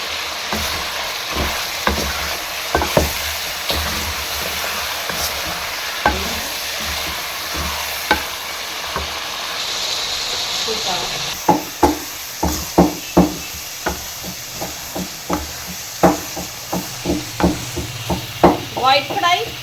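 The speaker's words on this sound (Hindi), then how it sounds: "लहसुन अदरक का पेस्ट इसे भून लेंगे" Garlic ginger paste fries in a pan for white chicken karahi, a continuous close sizzle joined in the second half by a rapid series of sharp spoon scrapes and clacks against the pan.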